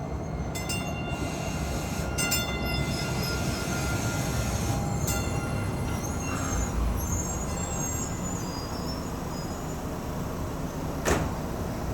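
Rumble of a DART Orange Line light-rail train in Dallas, steady rolling noise with high wheel squeals, a few clanks and a brief hiss near the end.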